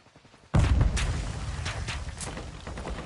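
Gunfire in DMZ begins with a sudden loud burst, followed by a sustained noisy roar of shots and scattered cracks that continue under the game's ambient noise.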